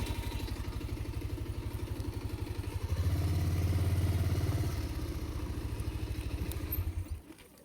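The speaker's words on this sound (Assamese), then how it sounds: "মোৰ বাইকখন একেলগে ঘূৰাই লওঁ ৰ'ব" A motorcycle engine idles close by with a steady thumping pulse, revving up briefly midway as the bike is turned around, then settling and cutting off at the end.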